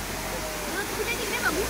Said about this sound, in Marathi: आता इकडे बघा किती छान धबधबा आहे